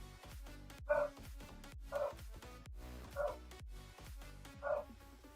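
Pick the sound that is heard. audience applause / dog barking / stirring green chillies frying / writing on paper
dog barking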